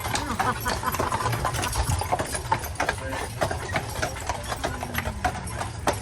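Trained horses pull a carriage on Mackinac Island, hooves clip-clopping in a steady rhythm close by, with a low engine hum and a voice talking over it.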